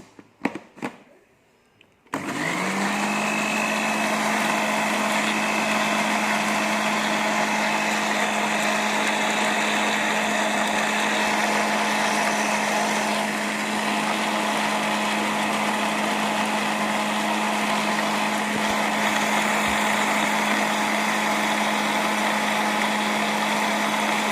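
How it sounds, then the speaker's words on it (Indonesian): A kitchen blender grinds garlic and spices into a paste for gulai, its motor starting after a brief quiet moment and then running loud, steady and continuous at full speed. "Kita harus blender lagi seperti itu ya."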